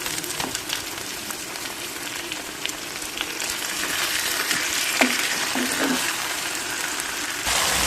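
Chicken and sliced onions fry in a pan for a curry, a steady loud sizzle running throughout with occasional stirring clinks, no talking.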